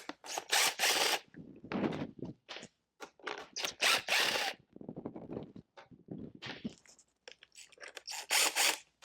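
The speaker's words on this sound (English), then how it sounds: "we're going to be taking out the 8 mil bolts that are around" 8 mm bolts being removed from a GY6 scooter motor with a power tool, short loud whirring and ratcheting bursts separated by brief pauses, close by.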